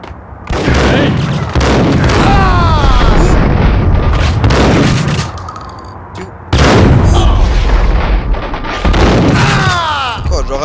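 Heavy, booming pump-action shotgun blasts in the Max Payne video game, two big loud bursts layered over dense in-game noise and voices, filling the whole stretch.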